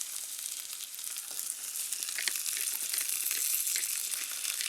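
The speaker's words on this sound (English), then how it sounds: "A little bit of olive oil. My saddle. And I'm going to brown it all around." Saddle of game meat browning in olive oil in a hot pan, a loud, steady close sizzle with crackling pops throughout and no talking.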